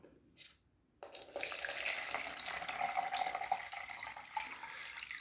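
Water poured from a container into a homemade jar capacitor wrapped in aluminium foil, a steady splashing, trickling flow that starts abruptly after a brief quiet moment and continues at moderate loudness to the end, without any talking.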